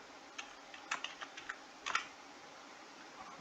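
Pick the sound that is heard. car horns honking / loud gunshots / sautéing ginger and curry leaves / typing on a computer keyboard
typing on a computer keyboard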